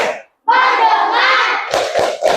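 A class of children chanting in unison for the tepuk fokus classroom routine, a long sustained group chant followed by a few sharp hand claps near the end.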